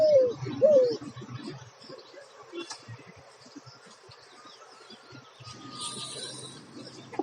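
Outdoor birdsong with a dove cooing twice at the start, then faint scattered chirps and tweets against quiet surroundings, with a brief higher twitter near the end.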